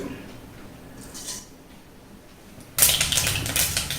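Mustard seeds hit a pan of hot oil, followed by a sudden loud burst of dense crackling and spattering pops that keeps going close by, after a quieter stretch of faint kitchen noise.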